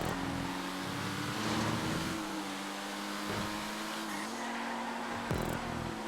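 A car engine roars steadily in a GTA 5 car-versus-car race, the revving pitch shifting up and down as the car accelerates and slows, with a sharp skid or scrape near the end.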